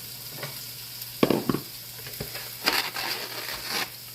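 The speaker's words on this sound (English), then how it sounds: "over here in my skillet, I'm gonna slide my peppers on over" Peppers sizzle and fry in a skillet, a steady close hiss broken by a few louder scraping stirs. No one speaks.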